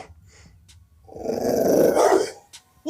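A 110-pound Cane Corso dog growls in a deep, rumbling snarl that builds for about a second and then fades, loud and near, with quiet sounds before and after.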